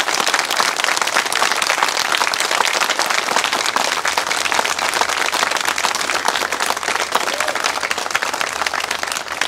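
A large crowd of protesters at a winter hunger-strike demonstration claps continuously and loudly, an even wall of hand claps sustained for nearly ten seconds without talk breaking through.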